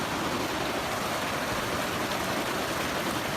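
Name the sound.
river flowing beside a hiking trail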